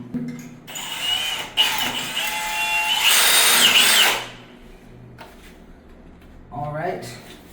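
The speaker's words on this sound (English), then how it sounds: "I'm gonna go with a smaller drill bit so we can," A power drill fitted with a small bit bores into material while mounting a Knox Box Doorking 1401-080 fire department access box, whining in sustained loud bursts with a brief pause, then a mechanical rattle at the end.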